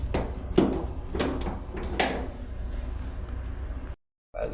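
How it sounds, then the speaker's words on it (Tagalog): A forward door opens with a few sharp clunks and latch clicks over steady low background rumble, then a brief silence. "Buksan natin yung forward na pintuan"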